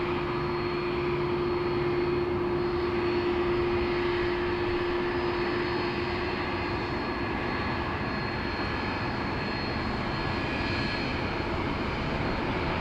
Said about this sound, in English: Qantas 11, runway 34 left, clear for takeoff